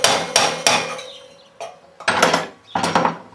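A hammer strikes sharp metallic blows to drive a Talon front wheel bearing into place, six loud, close impacts in an uneven rhythm, each with a short ringing decay.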